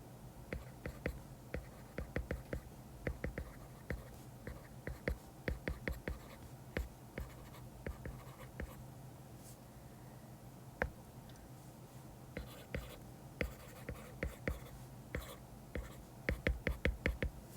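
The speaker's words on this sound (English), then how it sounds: "So I'm also going to write that out." A pen scratches out handwritten notes close up, in quick clustered strokes and taps with short pauses between words, quiet and alone.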